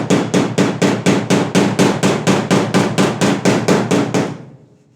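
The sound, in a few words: firm hammer blows leveling Passat car body panel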